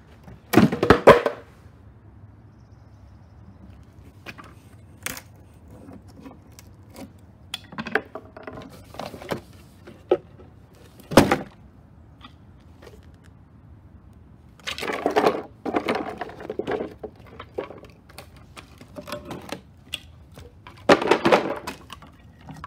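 A wooden radio cabinet is smashed apart, with scattered sharp cracks, thuds and splintering crunches in irregular bursts amid quieter handling noises, loud near hits separated by pauses.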